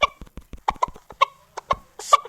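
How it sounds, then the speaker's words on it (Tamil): Chickens cluck close by in short, separate bursts with irregular gaps, ending in a slightly louder squawk. "வாங்க கோழிக்கிட்ட போகலாம்."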